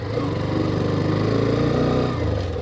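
A Hero Xtreme 125R motorcycle engine drones loud and steady while riding offroad, a buzzing mid-pitched hum that stays close and constant with slight roughness.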